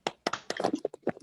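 Rhythmic hand claps of the 'tepuk guru' teacher clap, a quick patterned series of about ten close sharp claps in short groups.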